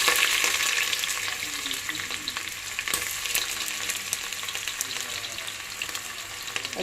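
Onion frying in a pan of spiced oil for Andhra country chicken biryani, a steady close sizzle with faint stirring scrapes running throughout without talk.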